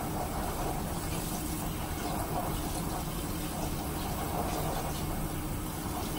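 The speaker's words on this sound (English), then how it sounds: "I'll just kind of rinse off my beauty mat and make sure that's all clean" A silicone beauty mat with suction cups is rinsed under a running tap in a sink, giving a steady, close rush of flowing water that continues evenly throughout with no pauses.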